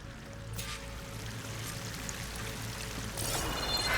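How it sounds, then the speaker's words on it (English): Waterfall in the video game Horizon Forbidden West, a steady pouring rush of falling water, continuous and moderately quiet with a brief brighter splash near the end, no voices. "That waterfall must be coming from somewhere."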